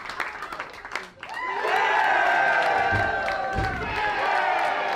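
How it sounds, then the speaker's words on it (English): Large wrestling-event crowd bursts into sustained applause with cheers and whoops, swelling loudly and holding steady after a brief quieter moment of talk. "Well-deserved applause."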